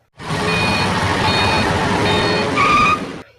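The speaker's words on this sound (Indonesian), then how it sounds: "tiba-tiba ada seorang yang memarkirkan mobilnya di lapang" A car reversing to park on a playing field, with a steady series of loud, evenly spaced electronic reversing beeps over a continuous engine hum, cutting off abruptly.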